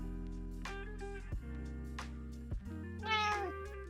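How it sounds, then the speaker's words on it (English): A cat meows repeatedly in a game session, several drawn-out, tonal cries with short breaks between them, close and clear, with a higher, more strained call near the end and no talk over it. "Something might be wrong with my cat."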